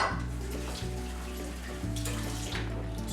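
Water runs and trickles steadily into a container for an apple galette, close by, with a low hum beneath the flow.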